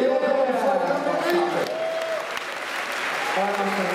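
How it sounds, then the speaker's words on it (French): A large crowd applauds at the Moteurs Action stunt show in Disneyland Paris, a sustained roar of clapping across the arena while an announcer talks over it. "Vous pouvez les applaudir encore une fois, quand même."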